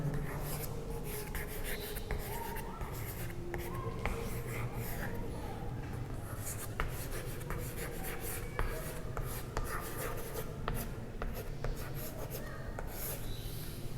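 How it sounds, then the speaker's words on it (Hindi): Notes are written by hand during a Class 9 geography lesson, heard as continuous close scratchy strokes and rubs across the paper at a steady pace, with no speech. "यहाँ लिख लेते हैं।"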